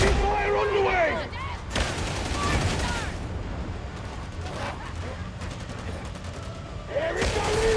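Darktide combat: bursts of rapid gunfire and heavy booming shots crackle through a loud, busy battle, with sharp volleys near the start, middle and end and character voices calling out in between.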